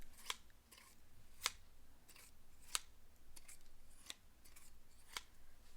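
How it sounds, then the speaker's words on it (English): Scissors snip sharply about six times at a slow, uneven pace, each crisp metallic click standing out against a quiet background. "Here are my scissors."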